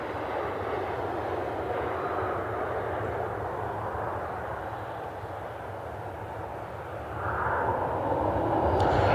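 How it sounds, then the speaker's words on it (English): United Boeing 737 airliner flying near Cleveland Hopkins airport in low visibility, a steady broad engine roar that swells louder toward the end. "United 737 inbound."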